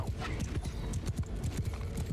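Horse archers' mounts galloping in Mount & Blade II: Bannerlord, a dense, rapid drumming of hooves close by, steady throughout with no voices over it.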